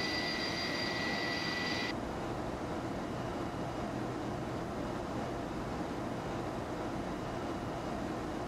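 Steady, droning jet engine roar from an Airbus A300-600ST Beluga in a flight simulator, a constant broadband hum throughout with a brief high tone at the start, no talk.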